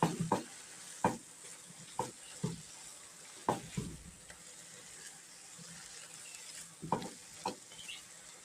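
Tomatoes and peppers fry softly in a pan, with a low sizzle broken by repeated sharp clinks and scrapes of stirring, and no one talking.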